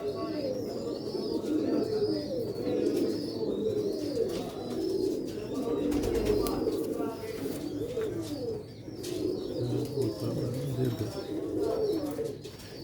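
Pipplan breed pigeons on a rooftop coo continuously in low rolling murmurs, several birds layered close together, with faint chirps above and talk mixed in at times.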